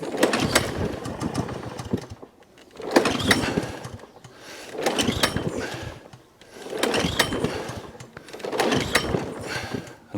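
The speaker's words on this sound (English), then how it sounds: "It is making noises, it is popping" An old lawnmower engine with a possible timing fault runs roughly, surging in five loud, rattling bursts separated by brief near-silent dips, with popping within each surge.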